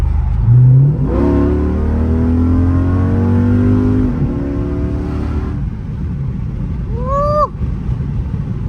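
A Chrysler 300 SRT in sport mode accelerates hard from close range, its engine rising through rising-pitch gear pulls for a few seconds before easing off, followed by a brief high whine near the end.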